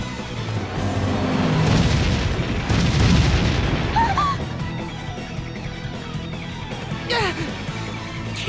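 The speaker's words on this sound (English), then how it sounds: "Cannon fire? This is madness!" Cannon fire explosions in the Bravely Default game, a series of heavy booming blasts rolling through the first few seconds, loud and dense, with smaller pops and a brief voice later.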